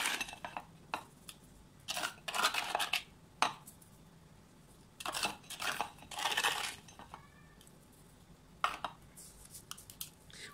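Sand poured and pressed around the roots of a live aquarium plant, giving bursts of gritty scraping and rattling in several separate rounds, close and alone with no voices.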